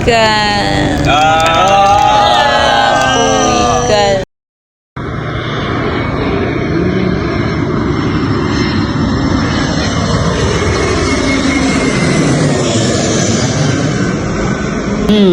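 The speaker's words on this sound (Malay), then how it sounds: "Sempat lagi berhenti tu berjalan nak tengok kapal terbang landing." Airplane coming in to land near an airport, a steady loud engine roar with a rising broadband rush that builds and sustains after a brief dropout, following a short stretch of music-like tones at the start.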